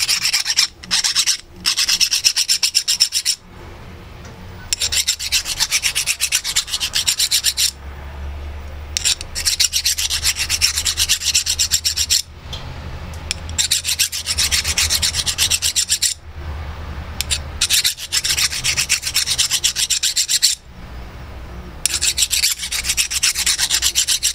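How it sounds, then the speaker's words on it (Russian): A hand file rasps back and forth on a hobbed bolt for a 3D printer extruder, in bursts of rapid gritty strokes with short pauses between, close and loud with no talk. "Подшипник не снимается, поэтому напильник выравниваем."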